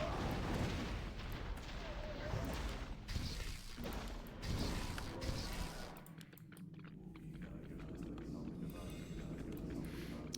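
Warcraft III match sounds, with Orc liquid fire attacks and battle impacts thudding and crackling beneath continuous excited commentary, busy and layered.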